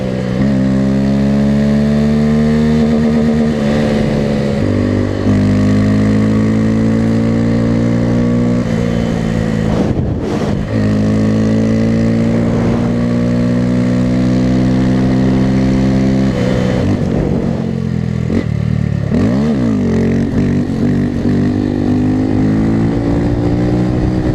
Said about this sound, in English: Power wheelies for days, boys. Or should we call them winter wheelies?